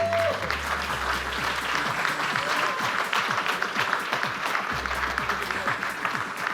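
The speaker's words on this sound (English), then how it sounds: "I want you guys to give her a round of applause" A live audience gives a loud, dense round of applause that holds steady from start to finish with no letup.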